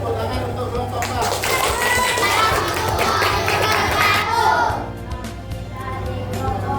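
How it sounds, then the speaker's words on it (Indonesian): Classroom of children clapping for a group, dense close applause mixed with chatter and shuffling, ending abruptly near the fifth second and giving way to scattered voices and taps. "Tepuk tangan untuk kelompok 4."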